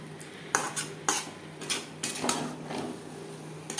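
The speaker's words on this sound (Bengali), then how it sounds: "আরও 1-2 মিনিট নাড়াচাড়া করে নেব।" Potato curry with garam masala gets stirred in a pan, a utensil scraping and clinking against the metal in a few sharp, uneven strokes, close and fairly quiet.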